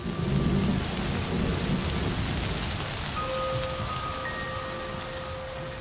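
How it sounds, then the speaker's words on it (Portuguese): Steady, heavy spring rain pours down on the wet savannas of Kruger National Park, South Africa, while low thunder rumbles, with a few faint tonal chirps in the background. "Conforme as estações avançam, as chuvas retornam."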